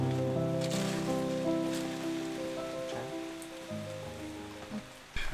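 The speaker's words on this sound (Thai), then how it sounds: "ฝนตก" Rain falling steadily during a storm on a trip to Phu Chi Fa, a constant hiss of drops heard close and fairly loud under a sustained low tonal hum, with a brief knock near the end.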